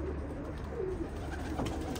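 Pigeons cooing close by, a soft low murmur of calls with a bright chirp near the end, over steady indoor room noise.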